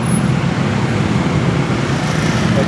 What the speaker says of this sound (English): it's still just bumper to bumper stop traffic